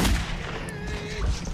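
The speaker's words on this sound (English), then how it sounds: "I will shoot you until you stop moving." Gunfire in the video game Metro 2033 comes as short heavy bursts that open and close the moment, with a faint ringing tone between them.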